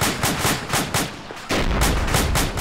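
Rapid bursts of gunfire in Arma 2 with tracers flying, loud sharp repeated shots in quick rhythmic succession that thicken into denser, heavier firing partway through.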